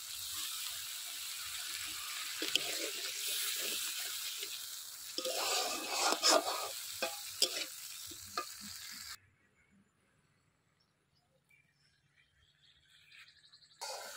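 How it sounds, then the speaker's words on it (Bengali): Prawn gravy being cooked down in a pan as water is added, loud close stirring and sizzling for several seconds with scraping clicks, then dropping to near silence before a faint return. "গ্রেভিটা কষানোর সময় দিয়ে দেব জল।"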